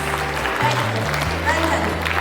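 Applause from a school audience for a quiz team at a house-wise quiz competition at St. Francis School, steady and moderately loud under tonal music and voices.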